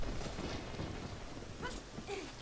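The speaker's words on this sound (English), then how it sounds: "It's raining." Rain in the video game Zelda: Ocarina of Time falls as a steady, faint hiss of rainfall with low rumbling underneath and a few soft tonal game effects near the end.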